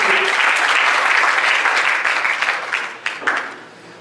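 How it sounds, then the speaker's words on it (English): A church congregation gives a dense burst of applause that holds strong for a couple of seconds, then thins out and fades to scattered claps. "Give him a hand clap of praise as you're being seated."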